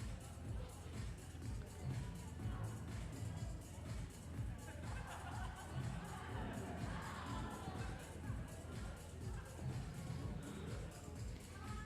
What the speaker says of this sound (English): Crowd, small as it is, making plenty of noise, trying to encourage her.